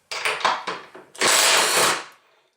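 A 12 volt 3/8 inch impact wrench, Bosch or Milwaukee, at maximum power: several short rattling impact bursts followed by a longer loud hammering run that fades out.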